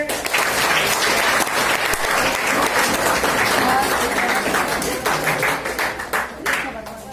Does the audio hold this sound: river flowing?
no